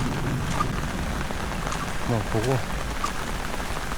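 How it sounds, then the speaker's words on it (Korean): Heavy rain pours steadily at a valley campsite at Chilgapsan auto camp in Cheongyang during the monsoon season, a dense, constant wash with faint distant rumbles, while a person speaks over it briefly. "지금은 그래도 비가 좀 많이 줄었어요"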